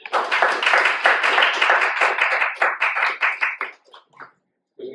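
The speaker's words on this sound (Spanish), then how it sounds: "los recibimos con un fuerte aplauso." A crowd applauds loudly and steadily for several seconds, then the clapping thins out to a few scattered claps and stops.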